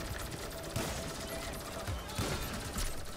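Gunfire in Grand Theft Auto V Online, a rapid crackle of shots with a few heavier bursts over steady game noise, with some talk underneath.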